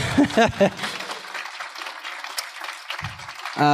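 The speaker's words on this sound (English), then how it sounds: "keep clapping" An audience applauds at a Hollywood tribute to Billy Dee Williams, a dense wash of clapping that carries on under an emcee's voice at the start and end.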